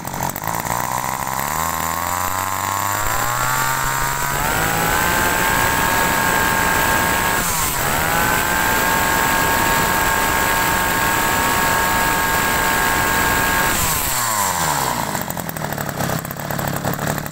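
A Japanese brush cutter's small two-stroke engine cranks, catches and runs loud and steady close by, with a brief dip in revs partway through before it winds down near the end.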